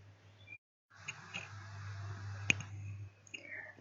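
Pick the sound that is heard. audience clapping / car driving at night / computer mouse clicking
computer mouse clicking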